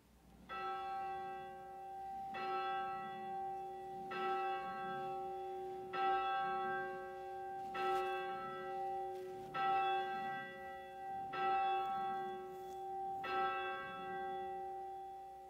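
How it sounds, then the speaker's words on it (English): A church bell at Bridgewater United Methodist Church in Virginia rings before a morning worship service: about eight loud, resonant strikes at a steady, unhurried pace, each ringing on into the next, with no voices. "as we move from our announcements into the ringing of the bell"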